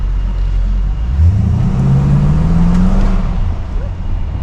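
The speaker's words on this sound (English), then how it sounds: "Car always sounds better underground." A Lumina SS car engine revs up loudly and close, its pitch rising and falling in an echoing underground garage, with a deep steady rumble throughout.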